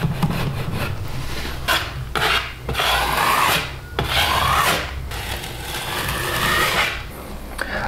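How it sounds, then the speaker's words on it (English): A putty knife smoothing drywall mud over a patch around a new outlet in an existing wall, giving repeated close scraping strokes in uneven rhythm with short pauses between passes. "using my putty knife, I just wanna make sure that it's flat in there"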